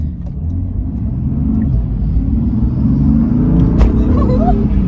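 A BMW M4 accelerating, its engine a steady low rumble and road roar heard from inside the car, loud and continuous with a slight rise in pitch toward the end.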